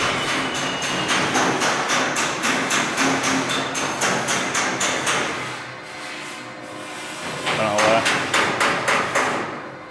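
Hammering on car body metal in a workshop: a loud, close series of evenly spaced sharp metallic blows ringing out, pausing briefly before another quick burst of strikes, with a voice heard faintly in passing.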